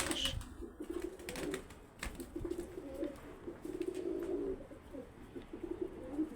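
A five-year-old pigeon coos close by in a series of soft, low, throaty phrases, with faint clicks and light background noise between them.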